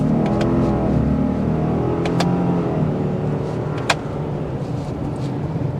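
A 2023 Subaru Outback Wilderness with a turbocharged engine pulls away from a stop. The engine drone rises steadily and fills the cabin, with a few faint clicks and no voices.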